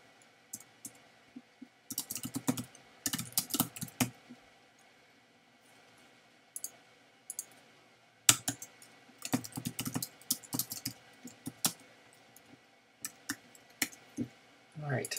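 Bursts of quick, light clicking keystrokes on a computer keyboard entering web page code, arriving in uneven clusters with short pauses between, close and fairly quiet.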